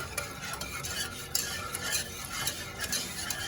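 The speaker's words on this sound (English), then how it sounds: "So Maria's still stirring" Flan mixture being stirred steadily in a pot, a continuous scraping swirl with light utensil clinks against the pot, close and fairly loud, with no talking.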